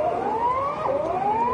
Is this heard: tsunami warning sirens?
yes